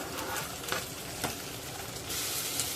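Chopped tomato with a pinch of turmeric and asafoetida sizzles softly in a pan, with faint stirring scrapes over a steady hiss that grows a little louder toward the end, and no talking.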